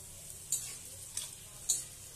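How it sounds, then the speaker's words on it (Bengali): Bitter gourd frying in hot mustard oil gives a steady soft sizzle, with a few brief stirring scrapes in a quiet kitchen. "তো তেল গরম হয়ে গেছে, উচ্ছেগুলো আমি দিয়ে দিলাম"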